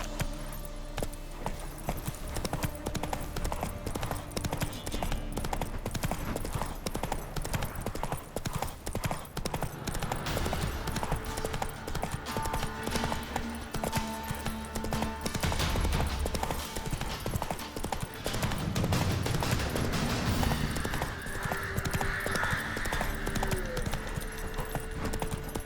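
In The Witcher 3, the horse Roach gallops with a steady, rapid clip-clop of hooves that runs throughout, layered with game ambience and a faint jangle of tack.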